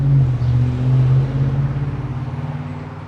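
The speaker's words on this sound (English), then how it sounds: "Loud car." A loud car rumbles past nearby, its engine droning strongly at first, then fading away as it goes.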